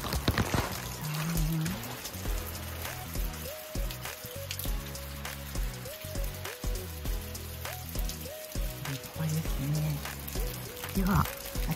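Heavy downpour at a Japanese temple, steady rain hissing and dripping beneath ongoing music and people talking, with the rain underlying the whole stretch.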